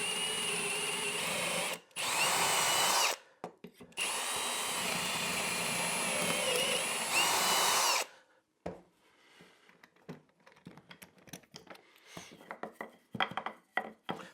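A power drill bores mortise holes in wood with a doweling jig, several loud close whining runs with brief stops, then a stretch of scraping, tapping and handling noises as the drilling ends.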